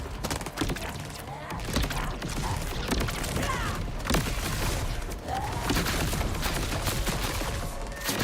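Dense rapid bursts of explosions and gunfire from Borderlands 4 on PS5 crackle nonstop, loud and chaotic, with thuds and debris-like rattles layered throughout.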